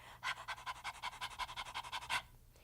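A person imitating a dog's pant as a voice exercise: rapid rhythmic panting, about twenty quick breathy pants in a steady run, close and clear, then stopping abruptly.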